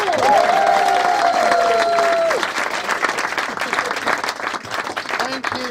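Loud, dense applause and cheering from a comedy crowd in a yurt venue in St Albans for comedian Sam Mitchell, with a voice calling out over the clapping early on and the ovation continuing throughout.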